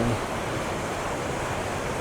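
Water rushing steadily through an irrigation lateral canal with an open check gate, a continuous broad wash of flowing water with some wind noise, close and fairly loud throughout.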